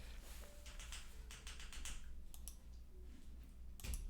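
Keys are pressed on a custom mechanical keyboard fitted with unwarped EBPT keycaps. The result is quiet, irregular clusters of clacky keystrokes with brief pauses, heard close and alone.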